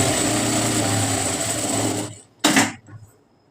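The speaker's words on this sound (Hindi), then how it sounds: "यहाँ पे हम इसको सिल लेते हैं।" Sewing machine stitching fabric with a steady, loud whirring drone that stops abruptly, followed by a short mechanical clunk and quiet.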